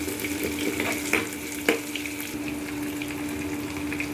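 Long-cut onions frying in a pan until soft, giving a steady close sizzling hiss with a faint tonal hum underneath and a couple of brief clinks.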